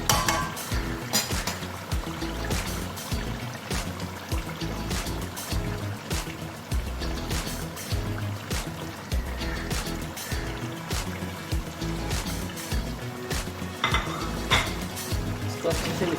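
Mutton karahi with fresh coriander, green chillies and ginger is stirred in a pot, giving steady scraping and clinking of a utensil against metal over a constant sizzle, with dense, repeated knocks throughout.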